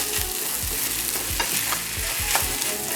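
Fried rice seasoned with five spice is stirred in a pan, a spatula scraping in repeated strokes over a steady close sizzle.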